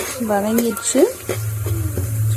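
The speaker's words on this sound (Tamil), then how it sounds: "வெங்காயம் நல்லா வதங்கிட்டுருக்கு ஃப்ரெண்ட்ஸ்." Onions and curry leaves sauteing in a pan for thattapayaru rice, with a soft steady sizzle and occasional stirring under someone talking throughout.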